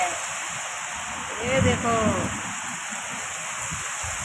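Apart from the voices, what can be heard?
heavy rain with strong wind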